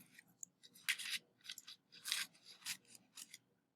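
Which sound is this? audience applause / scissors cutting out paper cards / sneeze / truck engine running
scissors cutting out paper cards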